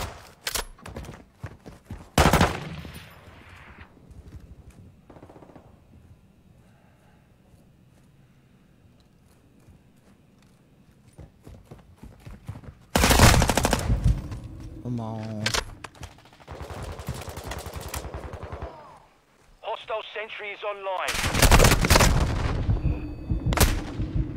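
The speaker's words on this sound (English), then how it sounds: "that was a sentry shooting me" Sentry gunfire in a video game comes in loud, dense bursts separated by quieter stretches of background game sound, with scattered sharp shots in between.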